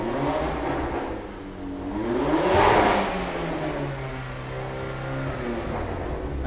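Car engine with an MTM exhaust on a 2022 car with 20-inch wheels: a single rev swells to a loud, throaty roar, then drops back to a steady, rumbling idle close by.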